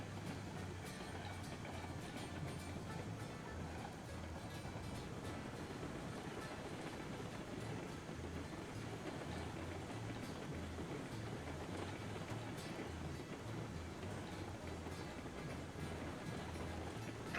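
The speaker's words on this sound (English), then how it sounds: "Eureka does have the best chuffs of the engines currently" Steam locomotive Eureka in the Railroads Online game, a continuous dense rumble of rolling rail noise with a rhythmic low chuffing throughout, steady and fairly loud with no talk.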